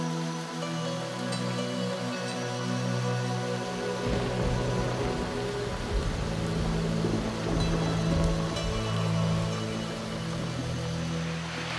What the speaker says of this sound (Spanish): perdemos, venimos aquí y llueve.